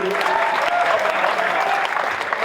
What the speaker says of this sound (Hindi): तो एक बार फिर से जोरदार ताली इन दोनों भाइयों के लिए।